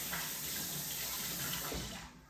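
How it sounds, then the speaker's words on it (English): A kitchen tap runs steadily into a sink while hands are washed, a continuous close splashing stream for a couple of seconds that tapers off near the end. "Let me wash my hands real quick."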